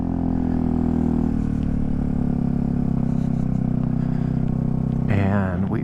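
Yamaha Zuma 125 scooter engine droning steadily while riding, a continuous loud hum with a brief rise near the end.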